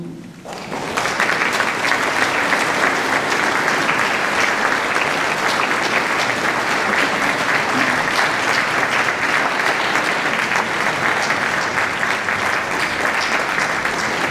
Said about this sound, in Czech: Oni mají rádi hodně potlesků.